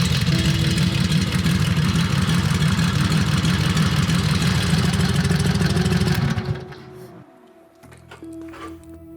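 A 1948 Harley-Davidson Panhead motorcycle engine idles loud and close with a steady low throb for about six seconds, then cuts off abruptly, leaving a quieter lower hum and faint background sounds.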